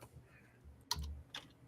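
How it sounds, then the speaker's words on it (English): Several sharp, uneven clacks of typing on an old typewriter-style computer keyboard, close and fairly quiet against a faint background hum. "You can probably hear me typing it in right now."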